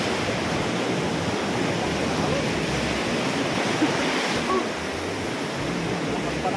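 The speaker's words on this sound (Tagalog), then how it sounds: "Lalaki ng alon mga ka-adventure" Big ocean waves break at a beach during a festive outing, a loud continuous roar of surf with wash and wind noise filling the whole stretch, no clear individual crashes standing out.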